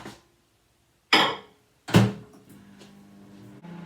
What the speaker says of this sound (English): So I'm going to pop it in the microwave now.